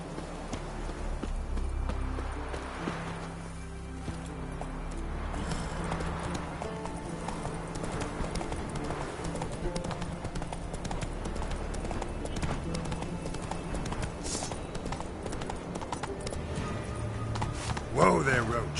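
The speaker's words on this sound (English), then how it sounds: "Whoa there, Roach" A horse gallops in The Witcher 3, rhythmic clip-clop hoofbeats running steadily under game music and ambience, with a brief louder burst and a snort near the end; a voice speaks over it.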